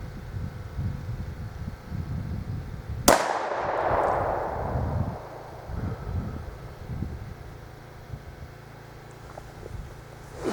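A handgun fires outdoors during a slow-squeeze shooting lesson: one sharp, loud crack with a ringing tail that fades over about a second, over steady wind noise and low rumble.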